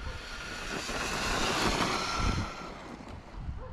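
An RC boat runs on an older, well-used 57,000K Castle motor at about 75% throttle, giving a loud, close rushing whine mixed with water spray and wind that swells in the middle and then eases.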